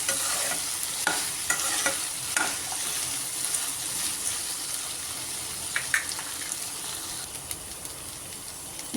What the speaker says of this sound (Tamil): பொரிச்சு வச்ச சப்பாத்தியையும் அதில் போட்டணும்.